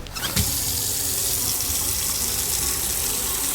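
Water pours steadily into a container in the game Autopsy Simulator, a constant close splashing rush that begins abruptly and runs alone without letup.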